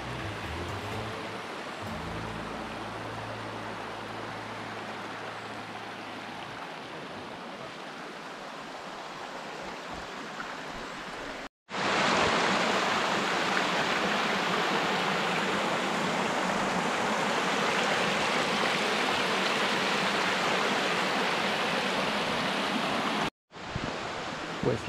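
A small stream runs along a path to waterfalls, a steady rushing of water that stays constant and grows louder partway through. It plays alone with no voices.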